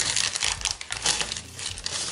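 Crinkly plastic packaging of a diamond painting kit being torn and crumpled by hand, a close, continuous rustling with sharp ripping bursts.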